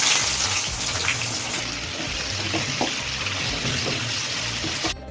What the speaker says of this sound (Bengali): এবার তেলের মধ্যে দিয়ে দেবো হচ্ছে কেটে রাখা পেঁয়াজগুলো